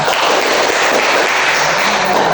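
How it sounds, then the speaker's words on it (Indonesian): A classroom full of students claps loudly and continuously, a dense wash of applause with no pauses. "Tepuk tangan dulu untuk kita semua."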